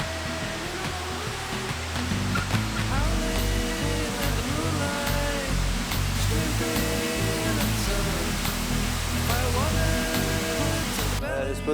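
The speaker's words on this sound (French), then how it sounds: "on est à la cascade du Ray Peak, c'est extrêmement stylé" Waterfall at the Cascade du Ray Pic in the Ardèche, France in winter: a loud, steady broadband rush of falling water filling the whole clip, with a voice talking over it.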